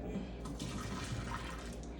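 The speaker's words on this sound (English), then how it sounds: "Pour that water out." Water poured out of a cup, a steady, close broadband splash and rush that runs for about two seconds without letting up.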